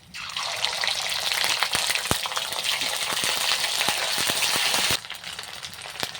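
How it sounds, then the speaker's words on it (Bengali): Ginger paste hits hot frying oil that already holds bay leaf and green chillies, bursting into a loud, steady crackling sizzle with sharp pops that drops away abruptly after about five seconds. "আদা বাটাটা তেলের মধ্যে দিয়েছি যাতে দেখছি ছিটকে না যায়"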